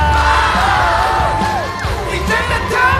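A studio audience at a Chinese stand-up comedy roast show cheers and whoops to welcome a guest, a loud, dense crowd roar lasting throughout with rising tonal shouts and whistles.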